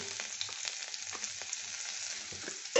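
Garlic, onion and ginger fry together in a pan for chicken stew, a close, steady crackling sizzle with small stirring scrapes, ending in a sudden louder burst.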